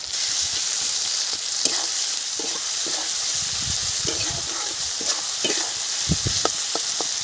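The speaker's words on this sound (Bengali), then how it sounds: "দিয়ে দিচ্ছি পেঁয়াজ কুচি। পেঁয়াজের ওপরে হালকা নুন দিয়ে দিচ্ছি, যাতে পেঁয়াজটা তাড়াতাড়ি সেদ্ধ হয়ে যায়" Chopped onions with kalonji and a pinch of salt fry loudly in oil in a pan for river prawn bhuna. The steady sizzle runs throughout, broken by stirring scrapes and a few sharp clicks near the end.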